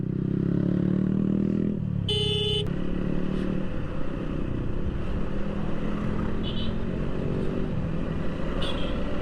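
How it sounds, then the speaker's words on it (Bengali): A group of motorbikes rides along the Marine Drive road at Cox's Bazar, a continuous close engine drone with wind rush and a brief tonal horn-like beep early on. "কক্সবাজার মেইন ড্রাইভে গ্রুপ নিয়ে বাইক চালানোর মজাই আলাদা।"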